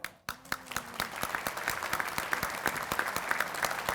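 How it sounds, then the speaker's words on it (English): A breakfast networking crowd gives a big round of applause for the Ambassador of the Month from an insurance agency, with close, sharp individual claps standing out over a steady bed of clapping throughout. "give a big round of applause from Helton Insurance Agency, Michael Vanover"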